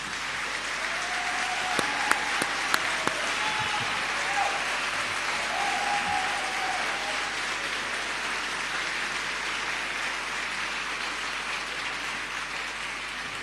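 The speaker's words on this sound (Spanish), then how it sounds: "Quiero que le demos un cariñoso aplauso a Gastón Sublet." Warm audience applause fills the Teatro Condel theatre, a broad, even roar of many hands that holds steady for over thirteen seconds, with a few sharper claps standing out near the start and faint voices beneath.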